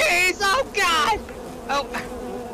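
A swarm of bees buzzing in the video game I Expect You To Die, loud, wavering drones that swell in several short bursts and fade between them.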